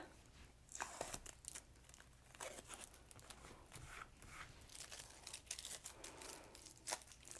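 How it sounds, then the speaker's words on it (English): Tape peeled off a fleece quarter-zip garment, a continuous close crinkling and tearing rustle with short sharp rips, quiet overall, with no talking. "Going to remove our tape."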